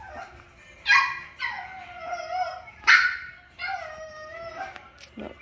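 Four-week-old puppies let out high whimpers and squeaky barks in a few drawn-out cries, close by and fairly quiet, with short pauses between.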